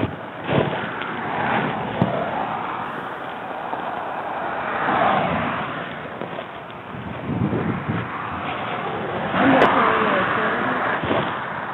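Car engine idling steadily at a roadside police traffic stop, a continuous low rumble with wind noise, heard close throughout while people talk over it.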